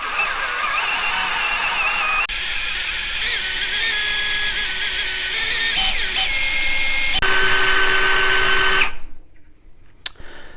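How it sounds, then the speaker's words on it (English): A power drill whirs continuously at close range, turning a freshly assembled 1982 Jeep CJ7 engine to prime the oil, its pitch shifting a few times before it cuts off near the end, leaving quiet. "I'm going to rotate the drill"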